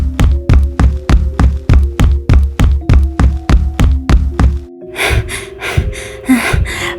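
Someone pounds hard and fast on the door of a house, about a dozen loud, evenly spaced heavy knocks close up, followed by panting breaths.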